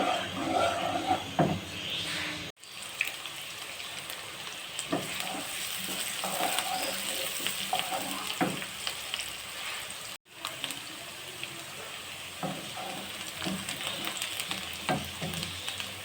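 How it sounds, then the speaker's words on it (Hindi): Chopped medium onion fries in ghee or oil in a pan, giving a steady sizzle with occasional stirring scrapes and two brief dropouts. "मैं पहले हल्के से फ्राई करूँगी ये चॉप की हुई 1 अदद मीडियम प्याज।"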